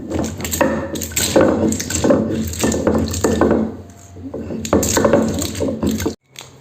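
A loud mechanical grinding whir from a mixer grinder grinding spices runs nearly continuously in pulsing surges, then cuts off abruptly just before the end.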